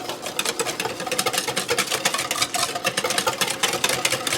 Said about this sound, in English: So I'm just whisking this together.